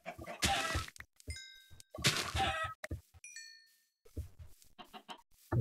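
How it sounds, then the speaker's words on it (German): Chickens clustered around a small spawner in Minecraft make short, clipped clucks in bursts, mixed with bright digital dings and soft thunks against near-silence. "Hier ist anscheinend ein kleiner Hühnerspawner."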